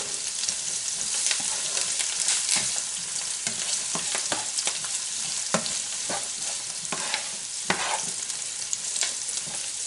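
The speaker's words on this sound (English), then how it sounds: "I'll just throw my carrots in there and let them start to cook" Carrots saute with kale in a hot pan, giving a dense, steady sizzle broken by frequent stirring clicks and scrapes. Close and continuous, with no voices.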